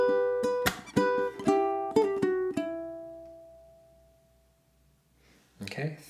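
A ukulele plays a theme, a handful of bright strummed and plucked chords in a stop-start rhythm with the last chord ringing out into silence, then a brief voice.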